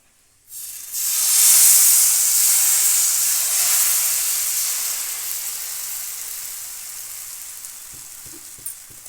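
Rava onion dosa batter hits a hot griddle with a sudden loud hiss that swells into steady sizzling and slowly fades over several seconds, with a few faint taps near the end and no talking.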